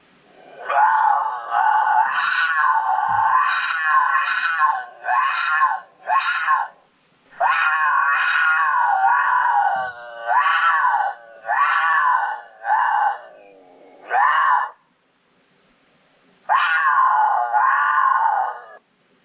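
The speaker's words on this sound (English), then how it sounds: "It's a mountain lion in heat call." Mountain lion in-heat call played from a hunting caller: a series of loud, wavering wailing moans in bursts, with short pauses between them and a longer gap near the end before a final drawn-out wail.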